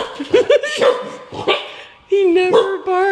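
A dog gives a run of sharp barks, yips and whining howls close to the microphone, mixed with people talking and laughing.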